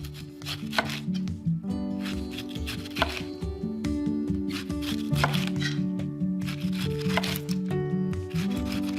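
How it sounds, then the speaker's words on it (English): Knife slicing the skin off a pineapple, a series of close crunching, scraping cuts spaced a second or two apart, each a short rasp, with no talk over them. "Give yourself a flat surface to work with, and then I just slice down"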